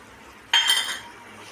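Aval halwa stirred in a pan over a low flame: one sudden scraping clatter of a spoon against the pan, quickly fading into a faint hiss, with no talking.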